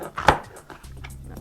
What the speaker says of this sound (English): let me just slice up some of these peppers